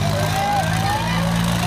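Eicher 485 and Swaraj 855 tractors in a village tractor tug-of-war contest, with a deep, steady engine drone that holds close and loud and a rising and falling whine above it.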